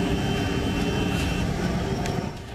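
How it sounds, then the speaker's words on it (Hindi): Aircraft engine rumbling steadily overhead above jungle and hilly terrain, a continuous loud droning roar with broadband low-end noise that eases slightly toward the end. "जंगल और पहाड़ी इलाकों में हर तरफ हेलीकॉप्टर की गड़गड़ाहट सुनाई दे रही है"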